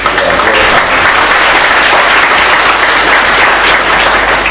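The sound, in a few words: conference audience applause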